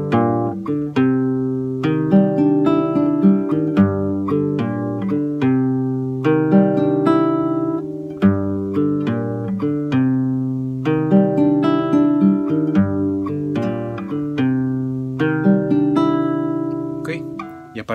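Acoustic guitar plays the full introductory phrase of a song as a steady stream of plucked notes across the strings, close and clear with no voice over it.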